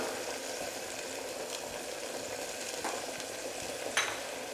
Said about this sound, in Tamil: எல்லாத்தையும் நல்லா ஒரு முறை மிக்ஸ் பண்ணி விட்டுக்கோங்க.